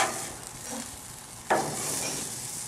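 Turkey burgers sizzle steadily on a grill, with a sharp scrape and a louder burst of hiss about halfway through as one is flipped, then continuing broadband sizzle with no talking.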